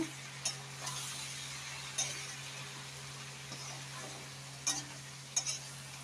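Drained, chopped cabbage is stirred in a pan with fried onions, a soft continuous sizzle under a low hum, broken by a few sharp clinks of the spoon against the pan at irregular moments.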